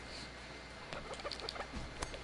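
A man imitates a chicken with a few short, squawky clucking bursts during a Monster Hunter World gaming session. The sounds are faint and scattered over a steady background hum.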